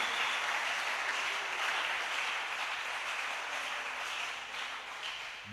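Church congregation applauding the risen Christ at a revival service, a dense, steady wash of clapping from many hands that holds evenly for several seconds before easing slightly toward the end.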